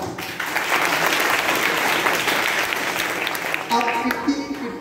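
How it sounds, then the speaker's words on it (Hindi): Loud applause for the performing artists at a seminar-cum-competition, a dense sustained wash of clapping, with a voice briefly coming in near the end. "सभी आर्टिस्ट के लिए जोरदार तालियां"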